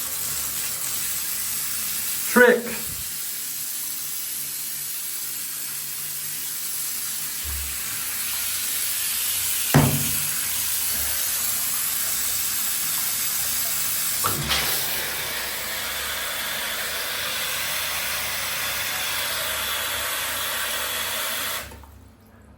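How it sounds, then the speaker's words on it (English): A shower running with steady broadband hiss of spraying water for about twenty seconds, with a few brief knocks and clunks as the head is handled, then cutting off abruptly at the end. "I'm going to turn the water on"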